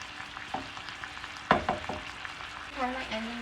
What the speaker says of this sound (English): Let me get the meat to stir